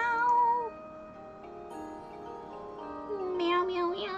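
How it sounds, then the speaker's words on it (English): An enchanted kitty pet in the video game The Elder Scrolls Online (ESO) gives a few tonal, drawn-out meows, close and clear over quiet game ambience. "Some enchanted kitty."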